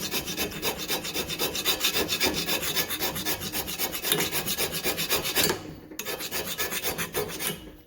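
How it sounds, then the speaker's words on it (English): Matco hand scraper rasping paint and rust off a metal surface, with steady repeated scraping strokes, close and fairly loud, a brief pause near the end before scraping resumes. "Oh, scrapes all the paint and rust and everything right off."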